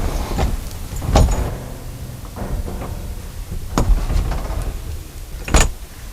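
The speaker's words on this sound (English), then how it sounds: "the roof is perfectly balanced and it's very easy just to simply raise the roof" The pop-top roof of an Australian Off-Road Odyssey camper van is raised by hand, with a few sharp clunks and knocks between rattling, creaking movement, close and fairly loud.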